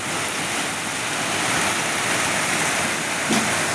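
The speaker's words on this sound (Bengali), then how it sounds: "আপনাদের সাথে বলতে বলতেই বৃষ্টি, মুষলধারে বৃষ্টি হয়ে গেছে" A heavy downpour during a storm makes a loud, continuous hiss and roar throughout, with no voices heard.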